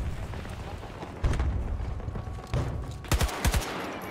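AK-24 assault rifle fire in Battlefield, a few sharp bursts and single shots over a busy, rumbling battlefield bed, the last cluster of rapid cracks loudest near the end.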